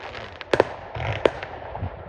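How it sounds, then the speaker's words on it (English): Bonfire Night fireworks at a rugby club in Leamington Spa, heard as distant sharp bangs and crackles: a loud double burst, a single sharp report, then softer pops over a low outdoor rumble. "What, the fireworks?"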